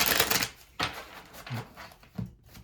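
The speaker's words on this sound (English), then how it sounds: "I'm gonna do a quick shuffle here for you guys" Tarot cards are shuffled by hand in quick, crisp bursts of riffling, with a few short pauses between handfuls, close and fairly quiet.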